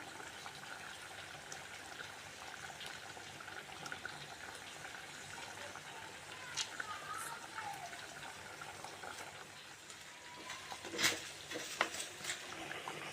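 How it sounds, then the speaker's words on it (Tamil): Stingray fish curry bubbling in a pot makes a steady, soft wash of simmering noise with faint pops and a few brief clicks near the end, heard close and fairly quiet with no talk. "நல்லா கொதிச்சிட்ருக்கு பாருங்கள்"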